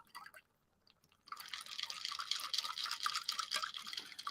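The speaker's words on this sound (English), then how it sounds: "Pour it in my glass, glug," A cocktail made with coconut water pours from a shaker into a glass. A brief faint splash comes first, then a short pause, then a continuous close trickling stream of liquid to the end.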